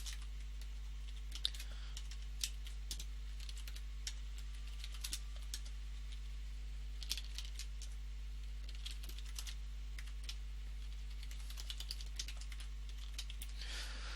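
Fast, light keystrokes on a computer keyboard come in bursts and pauses while a factorial function is entered, quiet and close over a steady low electrical hum.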